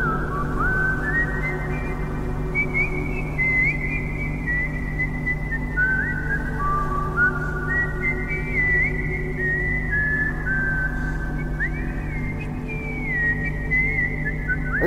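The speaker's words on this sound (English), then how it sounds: "Are you whistling, man?" A man whistles a continuous, wandering melody aboard the TARDIS for about fifteen seconds, the tune sitting clearly over a steady low hum.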